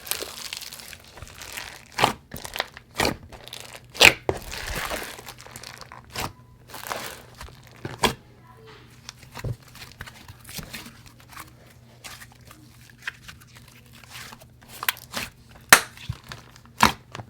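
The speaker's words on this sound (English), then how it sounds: "it's very creamy and soft, which actually gives it a really nice crunch with the big foam beads in there as well" A creamy, soft buttercream-style slime made with Daiso clay and large foam beads is squeezed and pressed by hand, giving close, irregular crunches and crackly pops with quiet gaps between them and no talking.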